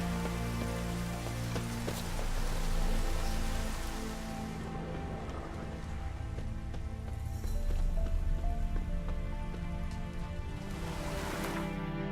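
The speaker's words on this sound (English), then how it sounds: "Looks like rain." Steady rain falls in The Witcher 3: Wild Hunt, a dense, even hiss of drops on surfaces that fills the whole stretch without pause, with no voice over it.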